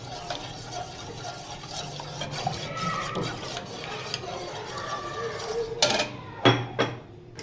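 A spoon stirring thickening chicken corn soup in a pot, soft repeated scraping and swishing under a quiet voice, ending with a few sharp clinks of the utensil against the pot.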